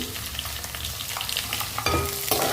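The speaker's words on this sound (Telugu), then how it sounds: "ఈ టైంలో మనం కోసి పెట్టుకున్న ములక్కాయ ముక్కలు వేసేసుకోవడము" Onions fry in a pan with drumstick pieces for a drumstick tomato curry: a loud, dense sizzle with stirring scrapes throughout and a sharper burst near the end, no talk.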